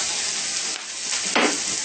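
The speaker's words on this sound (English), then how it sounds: "Okay, stir it up fast." Food sizzles and fries in a pan while being stirred quickly, a continuous close crackling hiss with scraping stir strokes and a brief louder burst near the end.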